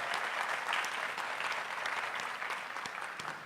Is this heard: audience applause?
yes